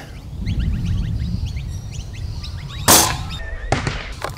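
A Nerf Mega sniper blaster fires a single dart with one sharp, loud pop partway through, against a background of outdoor birdsong chirps.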